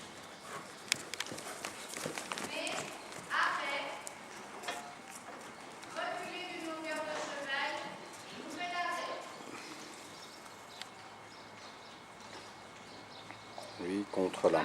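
Horse hooves clip-clop on firm ground in an uneven rhythm, fairly faint and distant, with people talking over them at times.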